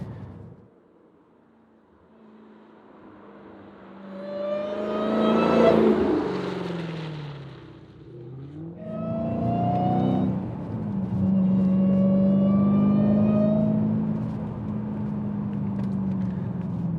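A Dodge Hellcat's supercharged engine revs under light throttle taps, two swelling roars rising and falling with a steady loud drone between them, up close and with no talk.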